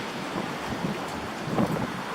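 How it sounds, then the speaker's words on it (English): Gusting wind roars through trees a couple of doors over during a storm, a steady broadband rush with a few stronger swells and microphone buffeting, no voices. "The trees over there are getting blown around pretty good too."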